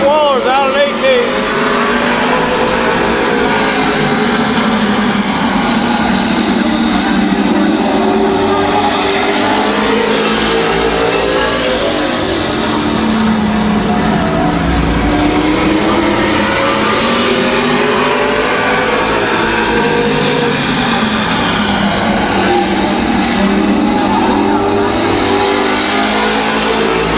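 Race cars roaring around a short speedway track at Midvale Speedway, loud continuous engine howl with rising and falling revs as cars pass close, a track announcer's voice running underneath throughout.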